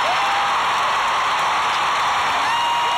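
Arena audience after an encore of a concert in 2001, a dense roar of applause and cheering, loud and continuous with no pauses.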